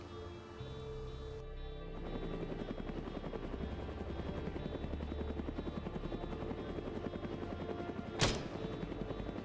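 Helicopter in the video game ArmA 3, a steady close rotor thump with engine drone running throughout, with a sharp loud burst near the end.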